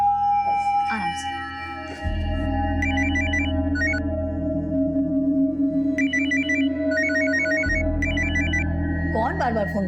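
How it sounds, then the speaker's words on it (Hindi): A telephone rings repeatedly in a home at mealtime, its bright electronic ring pattern recurring in bursts over a constant low background hum, with people talking underneath. "कौन बार बार फोन कर रहा है?"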